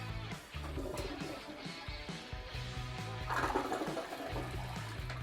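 A household toilet flushing right after its fill valve was replaced, with a steady loud rush of water running throughout at close range.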